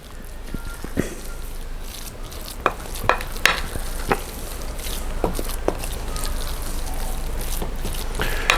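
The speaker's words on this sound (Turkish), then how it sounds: "Tekrar şöyle bir karıştırıyorum." Kalburabastı dough mixed with baking powder and soda is stirred in a bowl, giving a continuous soft, wet churning with scattered sharp taps and knocks from the utensil.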